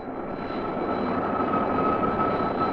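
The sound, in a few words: jet aircraft climbing at full throttle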